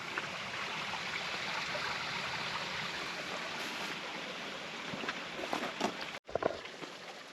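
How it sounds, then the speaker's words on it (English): Water streams and trickles beneath a frozen creek's ice in a Minnesota state park woods, a steady rushing flow with a few brief knocks and a short dropout near the end. "there's still water running underneath it."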